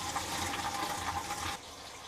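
Liquid poured into a toilet bowl, a steady close splashing wash that runs for about a second and a half before cutting to a quieter background.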